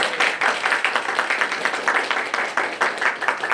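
A church congregation claps in encouragement during a Sunday worship service, a steady dense patter of many hands at moderate loudness, with no speech over it.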